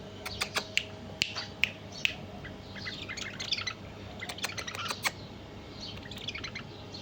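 A pair of tame bulbuls, a mated male and female, with the male singing: a run of short, bright chirps and tweets comes close and clear in uneven bursts over a steady low room hum.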